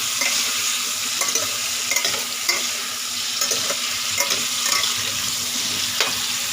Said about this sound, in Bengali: এবার এটা আস্তে আস্তে ভাজা হোক